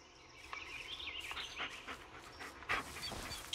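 A dog pants rapidly and whimpers in the Blair Witch video game's forest, quick breathy huffs close by in a short uneven burst with no talking over it.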